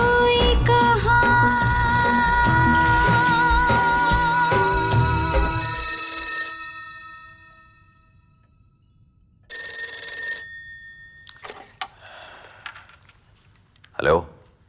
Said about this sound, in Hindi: हाँ विजय, अच्छा हुआ तुमने फोन किया